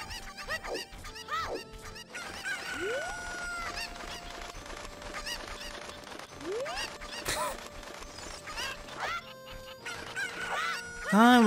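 Chickens cluck and squawk in Zelda: Ocarina of Time, a busy run of sharp, rising synthesized fowl calls mixed with game music and effects, ending in a louder burst.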